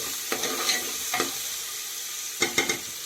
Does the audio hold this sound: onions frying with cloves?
yes